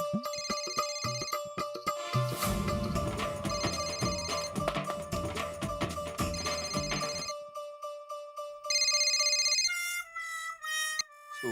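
A phone in a home kitchen rings with a loud electronic melodic ringtone that repeats several times, then stops, with no talking.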